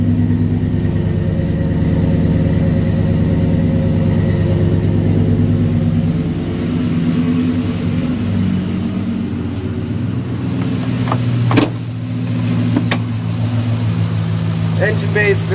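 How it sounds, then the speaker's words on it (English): A lifted 2006 Ford F-150 SuperCab XLT 4WD with dual exhaust idles steadily up close, a smooth low rumble running throughout, with a couple of brief sharp knocks near the end. "the dual exhaust sounds pretty good"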